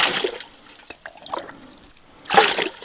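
Water splashes and trickles in two short bursts, at the start and near the end, with quieter drips and clinks between.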